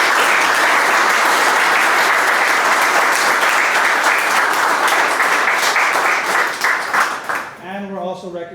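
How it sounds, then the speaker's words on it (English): Dense, sustained audience applause at a Laredo College Global Logistics Center recognition ceremony, loud and steady for about seven seconds before thinning out as a voice begins speaking at the end. "Please give a round of applause for them."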